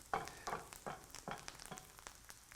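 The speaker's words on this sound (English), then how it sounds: "you hear that sizzle" Parsley sizzling and crackling in a hot pan, with a few louder bursts as ingredients hit the oil, close up and steady.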